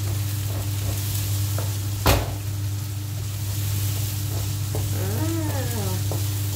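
Onions fry in a pan with a soft, steady sizzle over a constant low hum, broken by a brief loud clatter partway through and a faint wavering tone near the end, up close with no talking.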